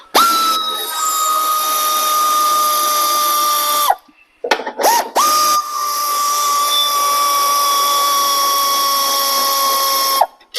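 A power tool runs on nuts and bolts while working on a 1986 Cadillac funeral car, loud and steady in two long whirring bursts separated by a brief stop with short stuttering revs, no talking.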